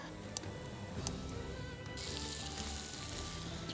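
Elk steak slabs with a rub, frying in butter in a pan at a motorcycle campsite, making a soft, steady sizzle that swells louder partway through, with a couple of faint clicks.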